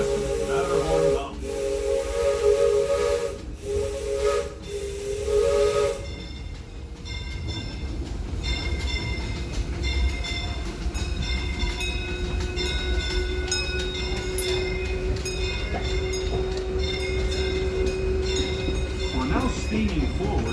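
Disneyland Railroad's Excursion 3 steam locomotive, the Fred Gurley, sounds loud whistle blasts near the start, then runs on with a steady hiss of steam and a rolling rumble of the wagons.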